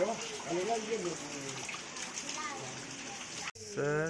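Heavy rain hisses as a steady broadband wash throughout, with a voice talking over it and a brief cut near the end.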